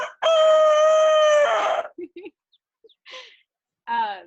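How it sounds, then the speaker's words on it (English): A young rooster crows loudly and close by in one long harmonic call, followed by a few short clucks and the start of another crow. "we've got 4 roosters here, and they're teenagers now, so they've been singing to each other"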